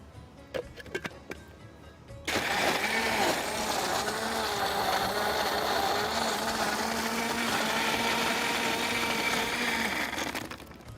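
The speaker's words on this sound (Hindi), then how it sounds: "लेमन जूस 2 से 3 टेबलस्पून, और हम इसमें डालेंगे बहुत सारी आइस, और फिर हम इसको करेंगे ब्लेंड।" A kitchen blender whirs steadily as it blends apple juice, mint, lemon juice and lots of ice, starting after a few light clicks and running loud and continuous for about eight seconds before cutting off.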